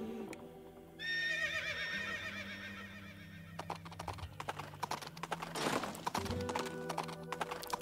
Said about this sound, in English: Oh, they got horses.